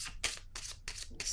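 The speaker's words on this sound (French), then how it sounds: "Je vais déposer une carte ici." Tarot cards are handled and set down on a table in three or four quick, crisp swishes and slaps, close by, with short gaps between them.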